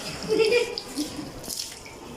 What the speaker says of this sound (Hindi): बारी बारी धोते जाइए, आते जाइए, हाथ धोते जाइए